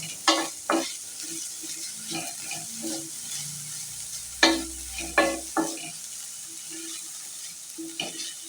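Onions sizzle softly in a frying pan with salt added for an egg curry, and a spoon stirs them in a few sharp, close scrapes and knocks against the pan between quieter stretches of frying.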